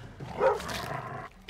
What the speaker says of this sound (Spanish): Ven aquí, perro.